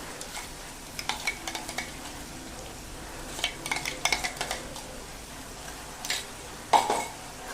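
Chilli-garlic paste tipped into onions frying in a pan for Maharashtrian brinjal bharit, then stirred with a spoon: a soft background sizzle broken by scattered scraping and clinking strokes against the pan.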